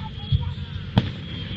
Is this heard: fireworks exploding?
yes